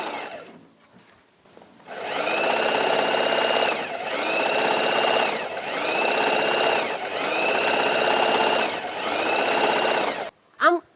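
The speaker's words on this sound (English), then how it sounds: "So here I'm sewing the edge here to give a comfortable feel on the shoulder." A sewing machine stitches a fabric edge in four or five steady runs with short pauses between them. The motor whirs loud and close, and the machine goes quiet at the start and near the end.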